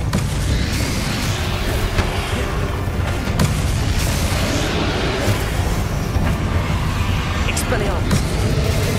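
Depulso force-push spells cast in combat in the wizarding game Hogwarts Legacy, deep booming thumps and blasts over a rumbling battle bed, loud and continuous with sharp impacts.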